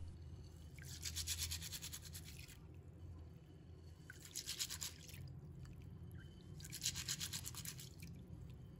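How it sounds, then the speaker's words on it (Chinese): Pearl barley is washed by hand in a bowl of salted water, with three soft bursts of wet rubbing and swishing separated by short quiet gaps, faint and close, no voices. "倒入清水没过薏仁。 下手把它清洗一下"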